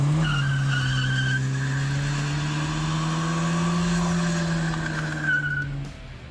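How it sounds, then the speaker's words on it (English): A Datsun 521 pickup with an L16 engine does a burnout at a car show, its tires letting out a loud, sustained squeal that holds a steady wavering pitch for several seconds before cutting off. "Do a burnout!"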